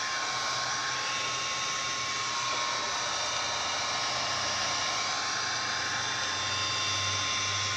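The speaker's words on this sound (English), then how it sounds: "you just take a heat gun and shrink it around it" A heat gun shrinks tamper guard sleeves onto refrigerant fittings during condenser work, a loud, steady blowing roar with a thin whine that holds for the whole stretch without talk.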